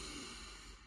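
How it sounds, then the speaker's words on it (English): A single soft, breathy inhalation, quiet and close, lasting under a second. "So essentially you're breathing in"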